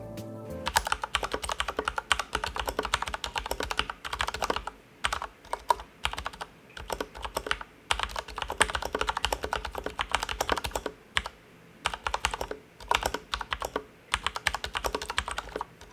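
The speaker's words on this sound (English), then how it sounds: "I've lubed those Cherry MX browns with Krytox to make it sound a lot nicer." Steady, fast typing on an IQUNIX L80 mechanical keyboard with Krytox-lubed Cherry MX Brown switches, muted, rounded keystrokes and brief pauses between bursts, close by and continuous.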